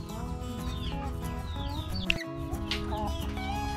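Chickens cluck steadily around a Vietnamese family home, close and busy, with overlapping calls and other yard and household sounds underneath.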